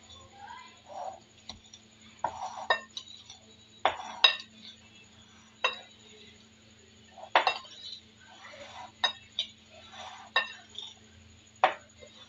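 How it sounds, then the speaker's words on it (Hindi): 1 kg of mango pieces for pickle being mixed in a vessel, giving intermittent clinks and scraping knocks at an irregular pace, close by over a quiet background. "अब हम डालेंगे इसके अंदर ये वाले 1 किलो आम, इसको अच्छी तरह मिक्स कर।"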